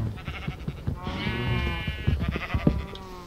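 Sheep bleating in the Minecraft video game, with a couple of short nasal baa calls up close, sounding over faint background noise.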